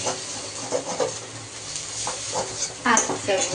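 Maggi noodles fry in a pan on a home stove, soft sizzling and hiss broken by scraping stirs and light clinks of the utensil against the pan, close by, with brief talk nearby.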